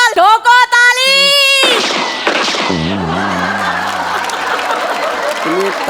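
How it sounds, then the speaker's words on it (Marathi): A gunshot sound effect fires on a comedy show stage, a loud sharp burst followed by crowd reaction and applause-like noise, with a voice talking under it. "तुम्ही टाळ्या ठोकायला सांगितलं, त्यांनी गोळ्या मारल्या."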